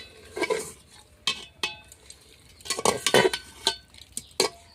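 A spoon scrapes and knocks against a pot while handi chicken with tamarind is stirred, a series of close, uneven clinks and scrapes with short pauses between them.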